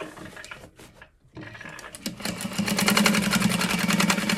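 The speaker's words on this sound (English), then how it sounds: "you can add two lines of stitching, just one right after the other" Sewing machine running a line of stitching across the bottom of a clear vinyl carry-all bag, starting after a brief pause and building into a steady, fast mechanical whir with rapid needle ticking.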